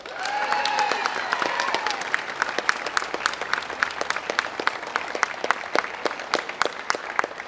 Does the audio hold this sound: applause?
yes